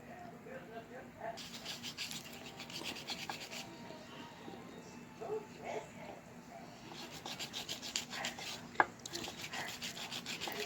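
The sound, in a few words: sanding polymer clay pendant sides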